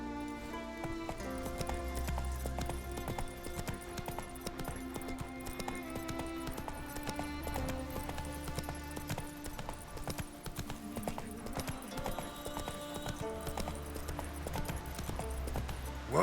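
Hoofbeats from Roach, the horse in The Witcher video game, clip-clop steadily in a galloping rhythm, set under a full, continuous music score that stays loud throughout.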